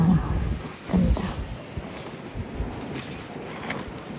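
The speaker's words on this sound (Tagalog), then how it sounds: "mahangin." Wind rushes across the microphone in soft, uneven gusts, rising and falling with a low rumble, fairly faint overall.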